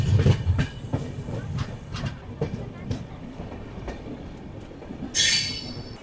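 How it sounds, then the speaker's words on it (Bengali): A passenger train running past Bagdogra airport, heard from on board with rhythmic wheel clacks and rumbling, loudest at the start, and a brief high squeal or hiss near the end. "এই বাগডোগরা এয়ারপোর্টের পাশ দিয়েই আমাদের ট্রেনটা যাচ্ছে"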